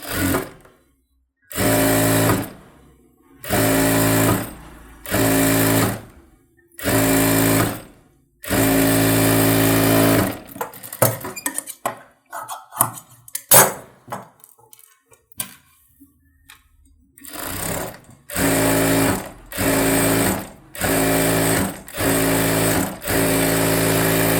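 A sewing machine stitches a saree blouse in repeated short bursts of steady whirring, each a second or two long with brief pauses between, and a busier stretch of handling noise and clicks in the middle.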